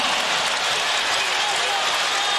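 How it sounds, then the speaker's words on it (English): A large basketball arena crowd roars in a steady, loud wash of cheering and applause, dense and continuous throughout with no clear breaks. "This crowd reacting to the hustle, to the aggressiveness of the"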